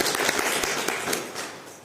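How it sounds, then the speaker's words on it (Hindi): Seminar audience applauding at a wellness seminar in Ajitgarh, Rajasthan, a dense, steady wash of many hands clapping that begins to fade toward the end. "तो जोरदार तालियां"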